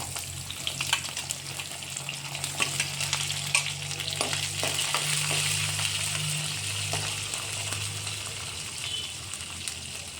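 Peanuts and onion frying in a pan for idli upma, a steady close sizzle with scattered spatula scrapes and stirring clicks throughout, no talking.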